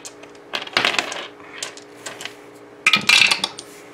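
Dice rolled onto a table during a solo game of Jekyll & Hyde rattle and clatter in two bursts, each a quick cascade of hard clicks and bounces, close and clear with no talk.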